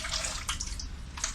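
Water trickles and drips from a rock wool propagation cube lifted out of hydroponic nutrient solution, a close, steady splashy patter with no talk.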